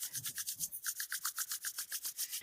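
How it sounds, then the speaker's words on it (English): Two palms rub briskly together in a steady back-and-forth rhythm of about a dozen close, even swishes, heard alone with no voice over them. "Something very, very simple, which is rubbing our hands together."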